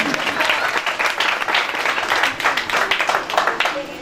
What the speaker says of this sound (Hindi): हाथों को लगाकर खुदा के जलाल के लिए जोरदार तालियों से उसकी शुक्र